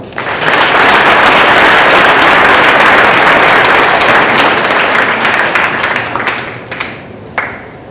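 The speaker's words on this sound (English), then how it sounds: "So one more round of applause." Sustained, loud audience applause fills a school winter sports awards ceremony for the Conneaut Spartans, a steady wash of many hands clapping that tapers off near the end with a few scattered claps.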